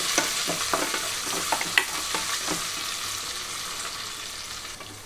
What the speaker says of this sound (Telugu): 1 నిమిషం పచ్చి వాసన పోయే వరకు వేయించుకుంటున్నాను. ఇక్కడే కొంచెం లేత కరివేపాకును కూడా వేస్తున్నాను.